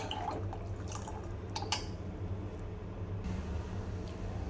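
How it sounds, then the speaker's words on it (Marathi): Moringa amti made with desi drumsticks boils in a pressure cooker, with soft bubbling and scattered drips over a steady hiss at low volume. "आमटी उकळी फुटत आहे।"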